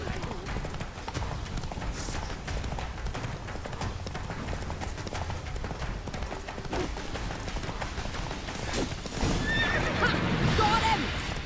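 A horse neighs and gallops in The Witcher 3, hooves clip-clopping steadily under a continuous game soundscape, with a louder whinny and action noise rising near the end; character voices speak over it.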